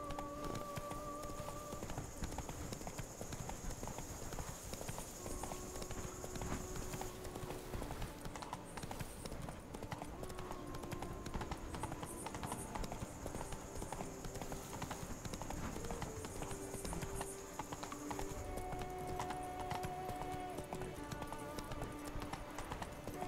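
Horse hooves clip-clop steadily and continuously in The Witcher 3: Wild Hunt, Blood and Wine expansion, a close, even rhythmic trot, with soft game music tones drifting underneath.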